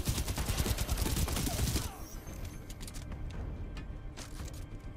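Rapid automatic gunfire in the video game Titanfall 2, a dense loud burst of shots that cuts off, then lighter scattered shots and game ambience continue.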